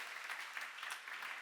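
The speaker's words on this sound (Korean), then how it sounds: "박수 하세요." A church congregation claps in a brief, dense burst of steady applause, moderately loud and without talk.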